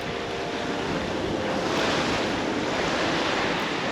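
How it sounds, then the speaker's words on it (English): Strong wind blows across a beach at Lake Macquarie, buffeting the microphone with a constant loud, rushing roar, likely mixed with surf, and no voices. "Wind's absolutely horrible again, of course."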